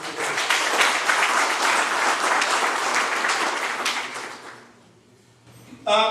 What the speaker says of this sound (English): I just want us to give them a round of applause for organizing it.